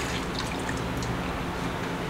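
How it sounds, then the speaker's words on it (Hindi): Hot water from a pressure cooker poured into Nagauri dal tadka, a continuous close liquid splashing and trickling pour with no talk. "ऐड करते हैं पानी"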